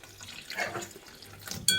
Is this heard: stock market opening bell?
no